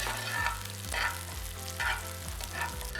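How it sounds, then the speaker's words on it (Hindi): A small onion frying in a pan gives a continuous sizzle with bursts of stirring scrapes at regular intervals, close and fairly loud, while steady music with a low bass line plays underneath. "एक छोटी प्याज, हम थोड़ा सा फ्राई करेंगे।"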